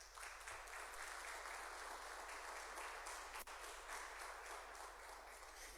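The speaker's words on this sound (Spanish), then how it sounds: "démosle un aplauso a Dios por ello." Steady, faint applause from a church congregation gathered for a family worship service, a continuous wash of distant clapping that holds evenly for several seconds.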